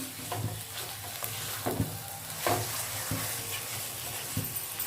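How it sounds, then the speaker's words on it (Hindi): Beef frying in a pan for a pasanday curry: a steady close sizzle broken by repeated scrapes and knocks of stirring, with no talking. "और अब मैं इसमें बीफ शामिल करूंगी और इसे भी मैं अच्छी तरह से फ्राई कर लूंगी।"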